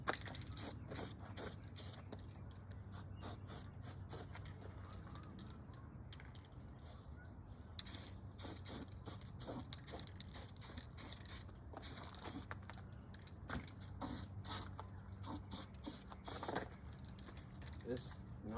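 A spray can coats a K-member from a 1967 Dodge Dart GT, heard as repeated short hissing bursts mixed with light clicks and rattles, faint and fairly even throughout.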